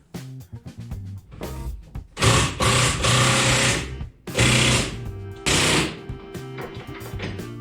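Rapid bursts of a power tool tightening the front steering box bolts during a steering box install, several loud rattling runs separated by short pauses, close up and alone.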